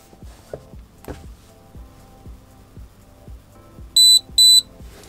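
Two sharp, bright electronic beeps from an Acetech Blaster airsoft tracer unit sound close together near the end, after a run of soft rhythmic ticking.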